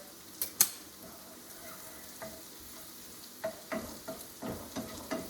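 Butter and garlic sizzling gently in a pan on a low stove while gnocchi cooks, a faint steady fry with scattered utensil scrapes and taps, close and without talk.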